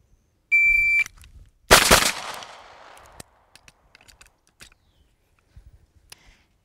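A shot timer beeps once, then a pistol fires at a close target: one loud sharp shot with a ringing tail, followed by a sparse string of quieter clicks and small knocks, with no talking.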